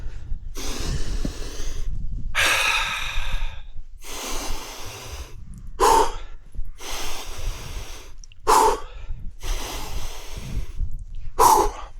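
Heavy, rhythmic breathing of a hiker pausing on an uphill climb: loud, close inhales and exhales repeating about every second and a half, with sharp snorting gasps among them and no talking.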